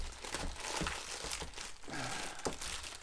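A plastic Ziploc-style baggie crinkles quietly in short, close bursts of rustling during work on a 2019 Camaro SS.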